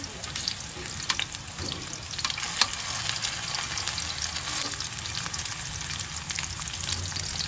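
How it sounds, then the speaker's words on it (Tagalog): Sliced potatoes frying in hot oil, a continuous hissing sizzle with occasional pops and stirring scrapes, steady and fairly close throughout with no talking. "Ipiprito lang natin itong hiniwa kong mga patatas."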